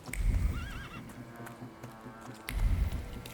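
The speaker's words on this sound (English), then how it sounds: "the horse doesn't neigh every time I click." A horse in the video game The Thaumaturge gives a short wavering neigh, then a second snort-like whinny follows about two seconds later, close and clear over a quiet background with no talking.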